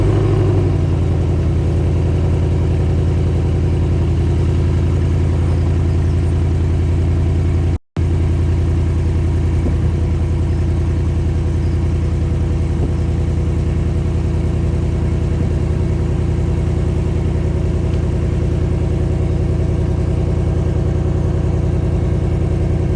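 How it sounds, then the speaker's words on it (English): A Ford Mustang engine runs at a steady, deep idle for over twenty seconds, broken by a single brief dropout, with no talking over it. "So that's the car started, let's get in and let's get on."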